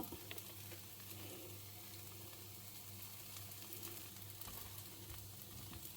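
Crispy podi dosa with idli podi frying in sesame oil on a hot pan, a steady soft sizzle and crackle that holds evenly throughout, quiet and close with no voices.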